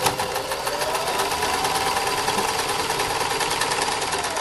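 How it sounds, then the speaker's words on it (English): A sewing machine runs steadily while stitching through the seam allowance of a dirndl skirt with pockets, a fast, even mechanical whir and needle chatter, close and continuous throughout. "I'm going to stitch into this seam allowance, closing up this little hole where I snipped earlier"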